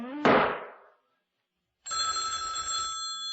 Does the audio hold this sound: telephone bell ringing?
yes